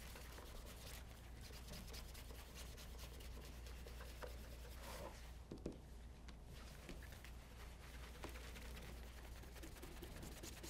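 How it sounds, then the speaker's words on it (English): Soft, steady rubbing of a cloth buffing polish off a leather shoe, close and quiet with a continuous textured friction and no voices. "we're gonna start buffing that first layer off of the shoe"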